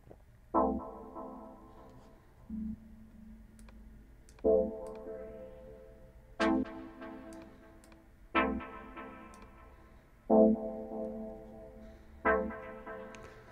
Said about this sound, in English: I want to change the frequency cutoff as I go along so the chord gets darker and gets brighter